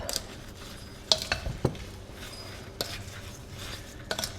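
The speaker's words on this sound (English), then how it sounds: "1/2 teaspoon of ground cinnamon, pinch of salt, and 5 grams of cornstarch. Mix that all up." Cinnamon, salt and cornstarch being mixed into sliced peaches for a peach cobbler filling, with soft, quiet stirring and a few clinks of a utensil against the bowl, close and without talk.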